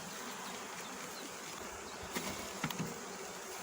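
Bees buzzing around an open beehive while a brood frame is taken out, a steady dense drone that fills the whole stretch, with a few closer, louder passes near the end.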